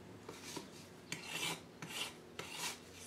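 A Surform rasp, the cheese-grater-like shaping tool, files across a miniature model surface in four rough, rasping strokes, each a short burst that swells and fades, heard close and alone.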